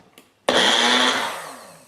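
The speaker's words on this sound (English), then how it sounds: "Why did you buy a Magic Bullet? It's just a small blender." A Magic Bullet small blender starts abruptly and runs with a loud whirring roar close by, holding steady for about a second before winding down, heard alone without talk.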